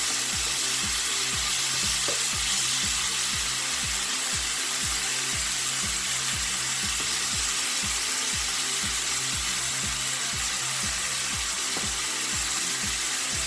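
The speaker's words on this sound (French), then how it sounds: "Les crevettes, on va les laisser cuire aussi légèrement quelques minutes avant de mettre les autres ingrédients dans notre marmite. Donc je continue à remuer." Shrimp sautéing in a pot with oil as a cook stirs them, a steady broadband sizzle with a repeating low scraping rhythm from the spoon across the pan, continuous and fairly close, with no talking.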